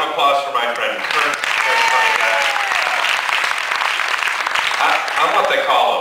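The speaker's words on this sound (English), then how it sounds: "another round of applause for my friend Kurt" Audience applause for a performer onstage at a comedy and juggling show aboard a cruise ship, loud dense clapping that swells and holds steady throughout, with faint voices and crowd noise mixed in.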